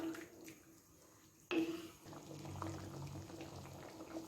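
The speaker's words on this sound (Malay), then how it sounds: "Kuah kurma tengah mendidih" A low bubbling simmer of vegetable kurma curry broth with soft gurgles and light clinks, quiet at first, then a sudden louder burst of activity and steady bubbling.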